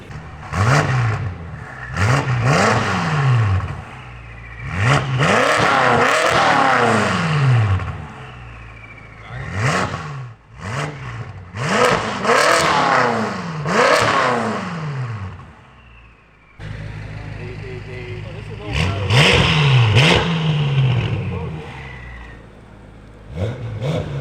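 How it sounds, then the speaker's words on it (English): A BMW F10 M5 engine revs hard again and again through a loud FI aftermarket exhaust, each rev rising and falling, with a brief lull and a slightly different tone near the end. "Let me know what you guys think in the comments about this exhaust."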